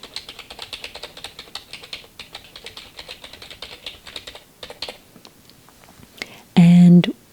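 Steady, fast typing on a computer keyboard, close and crisp with irregular clicks, softening near the end before a brief loud burst of another sound.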